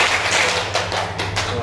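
Hand claps in a counting game with a group, a few broadband slaps spread across a second and a half, the clearest two near the end, over steady room hum.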